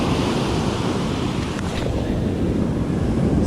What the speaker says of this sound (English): get some good breakers, some white sudsy water